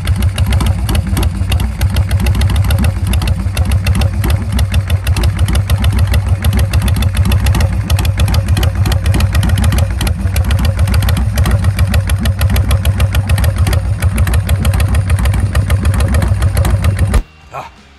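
A Harley-Davidson motorcycle engine with a Stage 2 setup idles loud and close with a lumpy, pulsing throb for about seventeen seconds, then cuts off abruptly.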